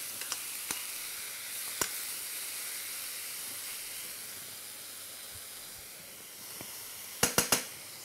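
Mushrooms sautéing quickly in a hot pan, browning on the outside, give a steady soft sizzle and hiss throughout, with a few sharp clinks and taps near the end.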